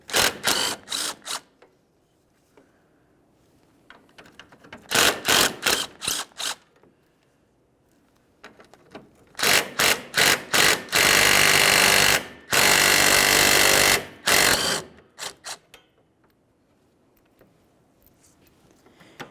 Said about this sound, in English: we'll remove our 3 12mm headed bolts